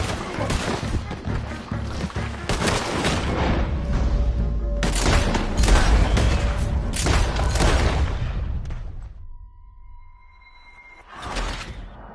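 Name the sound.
gunfire in Red Dead Redemption 2 video game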